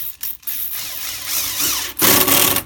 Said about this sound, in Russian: Прикручиваю при помощи саморезов.